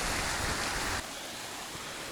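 A water pump spraying water like a fountain beside a creek in Burgenland, Austria, makes a dense, loud rushing hiss that cuts off abruptly after a second, leaving a softer steady wash of flowing water.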